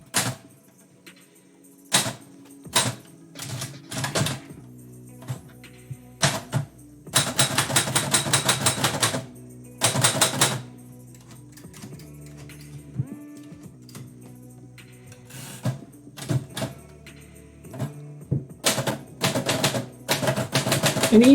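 Typewriter keys strike in uneven bursts of clacks with pauses between, punctuated by quick rapid runs and a few carriage-return dings and ratchets, close and alone without voices, during live haiku writing.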